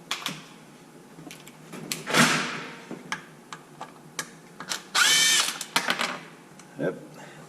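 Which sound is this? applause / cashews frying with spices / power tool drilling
power tool drilling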